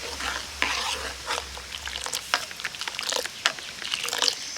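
Milk being stirred as it boils down and thickens for homemade yogurt, with soft scraping strokes and a gentle bubbling sizzle, fairly faint and steady with no talking.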